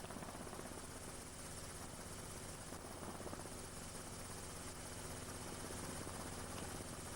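A helicopter drones steadily overhead above an old railway track bed in Plymouth, a constant whirring hum with faint rotor chop, far off and quiet.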